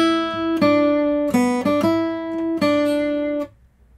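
Guitar plays a chorus melody as a sequence of clean single plucked notes, ringing and sustained, ending with a fade to quiet.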